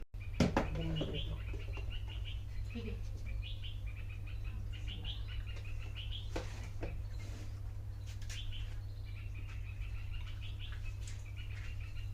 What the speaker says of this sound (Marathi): निसर्गाच्या सानिध्यात बघा पक्ष्यांचा किलकिलाट